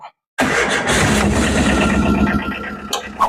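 A small truck engine cranks and catches, then settles into a rough, loud idle close by.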